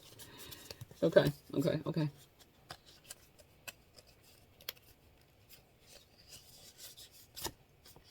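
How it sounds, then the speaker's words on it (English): Tarot cards shuffled by hand in two short riffled bursts, close and quiet, followed by faint scattered handling taps and rustles. "Shuffling."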